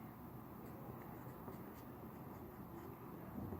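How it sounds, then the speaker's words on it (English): Steady scratching of a pen or pencil writing a math equation by hand, soft and close, continuous without speech. "So here I'm going to write if x equals 3 over 10"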